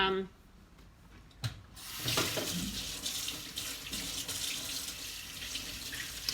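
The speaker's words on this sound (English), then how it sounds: "just washing my hands" A kitchen tap runs while hands are washed, a steady close rush of water splashing into a sink with shifting spatter, after a brief quieter moment at the start.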